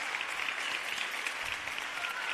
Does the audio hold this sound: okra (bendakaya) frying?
no